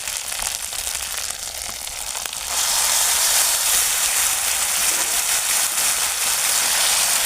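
Tomato paste hits hot spices in a pan and sets off a loud, steady sizzle, with the frying growing sharply louder partway through and then holding at a dense crackle.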